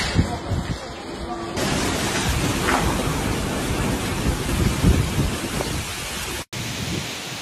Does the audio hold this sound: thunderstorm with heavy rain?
yes